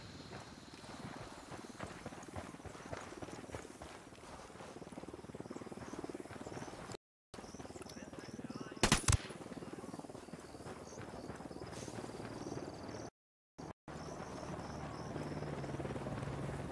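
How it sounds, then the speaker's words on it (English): A helicopter in the video game Ghost Recon Wildlands, a continuous low rotor drone with rapid fluttering pulses, moderately distant and steady with brief dropouts, no talk. "Don't need that chopper."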